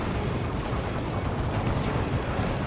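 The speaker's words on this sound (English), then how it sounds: "It's a plasma cannon shot." A plasma cannon shot rings out in a Dawn of War 2 battle, a heavy, rumbling blast with booming low-end reverberation under the din of continuous combat fire.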